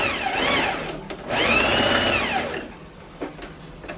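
A sewing machine topstitches the shoulder seam of a thick, lined wool coat. It runs in two sustained, whirring bursts with a short pause between them, then falls quiet.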